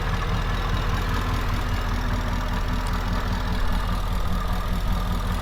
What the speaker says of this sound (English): Sounds super good, has a really smooth, healthy idle.